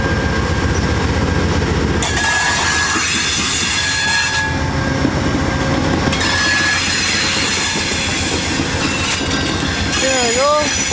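Amtrak passenger train rolling on rails toward Niagara Falls, a loud continuous rumble with rhythmic wheel clatter, high wheel squeals and brief horn-like tones, heard from close by.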